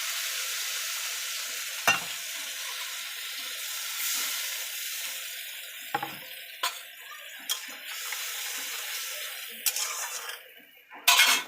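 Potato and pointed gourd fry with spices in a pan, a soft continuous sizzle broken by a few sharp scrapes and clinks of the stirring utensil against the metal.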